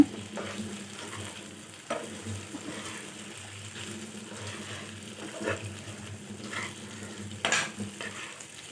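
Butter garlic prawns frying in a pan, a quiet sizzle under intermittent scraping and stirring strokes, with a sharper clatter near the end.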